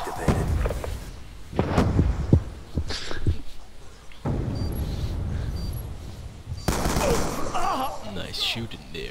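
Rapid bursts of gunfire from the video game Black Ops II, played in Capture the Flag and Demolition modes, with sharp shots clustered early and dense firing returning later, while players talk over it.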